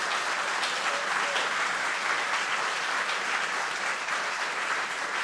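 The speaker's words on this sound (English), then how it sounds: "big round of applause for our artists." Audience applause for the artists at a comic art festival panel, a steady dense wash of clapping that holds at an even level for the full five seconds with no voices over it.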